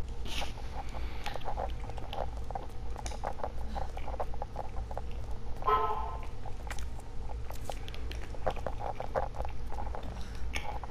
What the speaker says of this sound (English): Sorry if I'm like chewing like really loud.